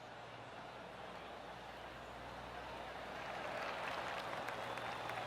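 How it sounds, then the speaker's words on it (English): Soft, scattered golf clap from spectators at the 3M Open tournament, distant and gentle, swelling slightly toward the end over outdoor ambience. "Oh, golf clap."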